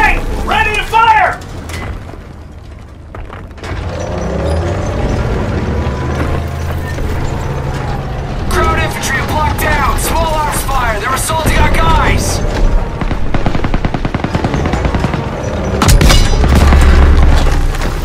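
Heavy booming tank cannon fire in the World War II shooter Call of Duty WWII, a few loud deep blasts over a constant rumble of battle, with voices shouting orders throughout.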